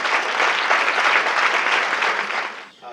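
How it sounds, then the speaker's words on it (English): Steady applause from a banquet audience at the 2013 CAIR-Arizona banquet, loud and sustained, fading near the end as it tapers off. "so they definitely deserve a round of applause."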